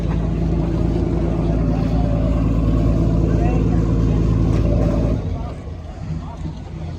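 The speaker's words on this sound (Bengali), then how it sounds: "তা এই আমাদের ভেসেল চলে এসছে।" Passenger ferry arriving at a jetty on the Diamond Harbour route, a loud, steady low diesel engine drone that drops in level near the end, with people talking over it.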